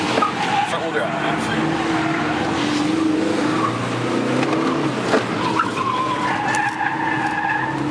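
A 2013 Ford Focus ST, turbocharged two-liter four-cylinder with front-wheel drive, driven hard with tires squealing and skidding under a loud continuous engine and road roar, with people talking over it.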